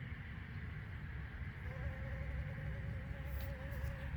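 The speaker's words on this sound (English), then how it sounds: "The bees are clustering." A low, steady honeybee buzz hums throughout in a beeyard, close and continuous, with a faint thin whine rising partway through.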